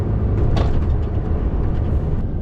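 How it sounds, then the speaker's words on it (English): Buses roll past on a Liverpool road, heard as a continuous loud, low engine rumble and road noise with a brief hiss early on, close by and with no voices. "Might not be cars, but you get a couple of buses."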